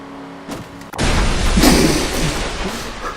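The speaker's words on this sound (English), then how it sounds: "That was just one hardcore explosion." A heavy in-game explosion from Just Cause 2 bursts in suddenly after a quieter stretch, then rolls on as a loud, broad roar that slowly fades.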